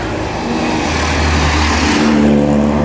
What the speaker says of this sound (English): Here comes the 34 Ford.